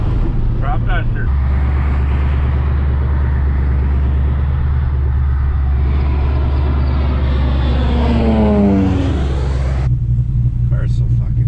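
A turbocharged 5.3 LS V8 Mustang cruising along gives a steady, loud low engine drone, with a rising then falling rev sweep near the end as it pulls through the gears.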